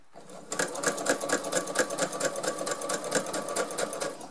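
A domestic sewing machine stitches a recycled-fabric curtain, starting after a short pause with a fast, even rattling beat that runs steadily and close up without talk.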